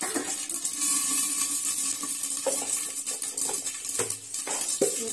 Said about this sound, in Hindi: थोड़ा हम लोग चटकने में देंगे